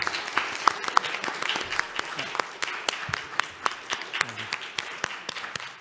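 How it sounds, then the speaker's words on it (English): Audience at a panel session applauds the newly promoted Solicitor General of Singapore, a steady round of distinct, moderately loud claps lasting throughout with no talk over it. "Let's give her a round of applause."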